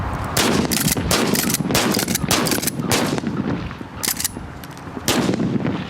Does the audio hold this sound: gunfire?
yes